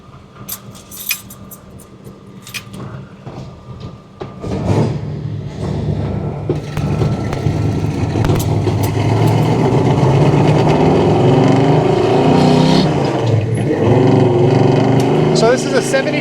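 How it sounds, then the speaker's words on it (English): A 1972 Chevrolet Chevelle with a high-performance engine is started and left warming up, the quiet first seconds giving way to a loud, steady rumbling idle close by that fills the rest. "We're going to let this car warm up a little bit just because it's got a high performance setup"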